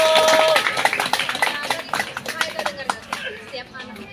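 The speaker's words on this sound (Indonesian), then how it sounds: "Tepuk tangan dulu." An audience claps at a parenting talk show with a host, a scattered run of sharp hand claps that thins out and tapers off while a voice talks over them.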